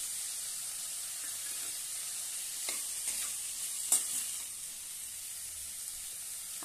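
Ghevda beans and potato with ground peanut powder sizzle in a hot pan, a steady high frying hiss broken by several spoon scrapes and stirring clicks, heard up close without any talk.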